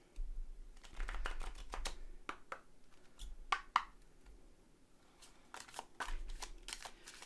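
Tarot cards shuffled in the hands before a reading, a run of soft riffling and flicking bursts with small taps between, fairly quiet and close, with no talking.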